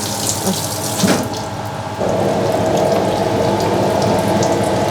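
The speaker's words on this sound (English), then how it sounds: "Now we put 1 liter of water." Water gushes steadily from a tap into a pot, about one liter, a continuous hissing splash that deepens slightly as the vessel fills, with no voices.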